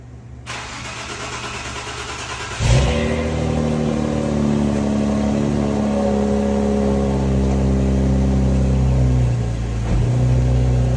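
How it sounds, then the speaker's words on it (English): An Infiniti Q60 Red Sport with the VR30 twin-turbo V6, just fitted with a replacement turbo, cranks briefly and fires up with a sharp rev. It then settles into a steady, even idle, close and loud, with no talking. "Now we're gonna start the car for the first time."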